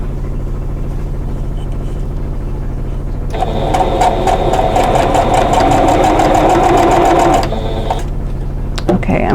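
A sewing machine stitches a quilt block seam in one sustained whirring run of several seconds, close and loud over a constant low electrical hum, with quieter handling before and after.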